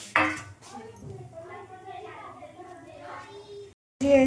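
Set gram flour (besan) is cut into pieces on a plate, with a few sharp knife-on-plate clicks and scrapes at the start and end, while a person talks throughout.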